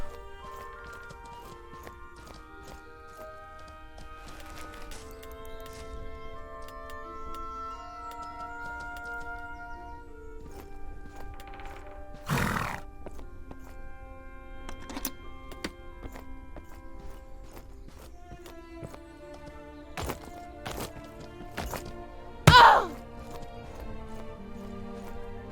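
Horse hooves clip-clop in the game Mortal Online 2, a steady rhythmic trot beneath layered music tones, broken by a few sharp louder clatters.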